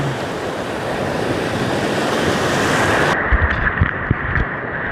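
Ocean surf breaks on a remote beach at the southern tip of Java, a steady, dense wash of waves and wind close to the microphone, with a few thuds of water late on and no voices.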